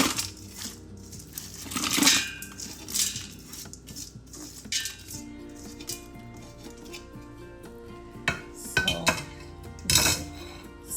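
Hard tea ingredients such as sorghum leaf, garlic and ginger dropped into a metal pot, with a series of clattering clinks and knocks, some louder bursts, close and with no talking.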